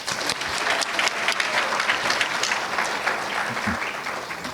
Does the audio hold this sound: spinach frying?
no